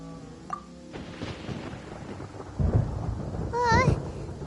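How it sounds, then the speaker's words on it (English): A thunderstorm in Genshin Impact rumbles with low rolling thunder and rain, swelling toward the end under brief game sound effects. "Where is the storm headed?"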